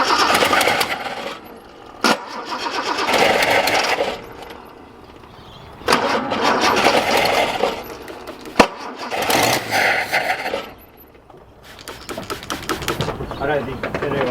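A Datsun 240C engine cranking in repeated bursts but failing to start, with chugging turnover that stops and restarts several times while people talk close by.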